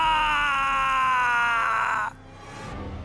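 A horror-story sound effect of a stabbed man screaming: one loud, sustained, strained cry that holds for about two seconds and breaks off sharply, leaving a low rumbling tail.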